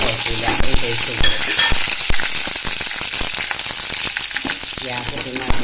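Fenugreek, mustard seeds and dried chillies sizzle loudly and steadily in a hot pan, with constant crackling and popping and occasional clinks as they are stirred.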